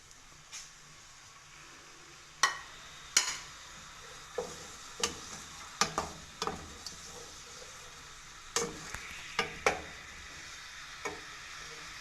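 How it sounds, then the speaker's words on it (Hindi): Onions frying in half a cup of oil in a pan for chicken curry: a soft continuous sizzle broken by a series of sharp spoon scrapes and clacks against the pan at irregular intervals. "ये मैंने आधा कप ऑयल लिया है, इसमें हम ये अपने ऑनियन शामिल करेंगे और इसे लाइट ब्राउन करेंगे।"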